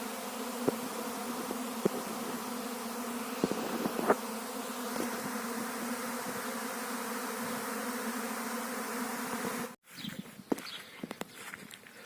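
A dense swarm of honeybees hums loudly and continuously nearby as the swarm settles and clusters, with occasional rustles and knocks, then the buzz drops abruptly and continues more faintly.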